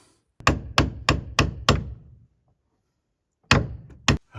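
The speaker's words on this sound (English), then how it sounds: "Let's hammer this guy in." A hammer drives a 2x4 block into a log cabin wall on an off-grid homestead: five quick heavy strikes, a pause, then two more close, loud blows.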